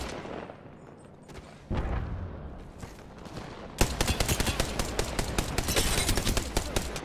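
Gunfire in the video game Apex Legends, at first sparse and distant single shots, then a dense rapid automatic burst of sharp cracks that dominates the second half, loud and close.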